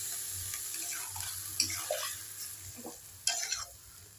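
Malabar spinach (pui shaak) cooking with its water in a pan for a Bengali village curry with prawns, giving a steady watery sizzle and stirring with a few sharp clinks of a utensil against the pan.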